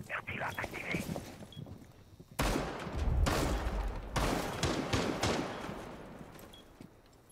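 Gunfire in Rainbow Six Siege arrives as loud bursts of rapid shots after a quieter opening, continuing in clustered volleys, while a player talks over it.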